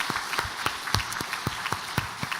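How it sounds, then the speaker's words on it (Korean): Church congregation in a Korean Sunday service applauding for elderly members, a brief, moderately quiet burst of scattered clapping with a few sharp individual claps standing out, no one talking. "우리 80세 어르신들을 위해서 우리 박수 한번 하면 크게 한번 하겠습니다."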